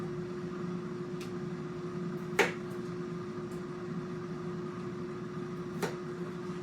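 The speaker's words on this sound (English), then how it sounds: "to throw some of these into the microwave to have for dinner tonight as mashed potatoes" Microwave oven running while it heats mashed potatoes, a steady low hum throughout with a couple of brief clicks or knocks, close and fairly quiet.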